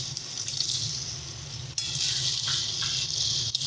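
Chopped tomatoes going into a spice paste frying for a Bengali mustard-poppy pomfret curry, a loud continuous close sizzle with a brief sharper hiss as they hit the pan.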